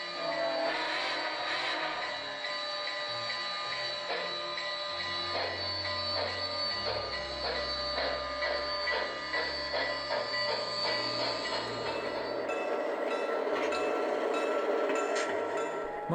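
An O gauge model train locomotive pulls away with a whirring motor hum, rhythmic wheel clicks and rattling over track joints, steady and close with no voices.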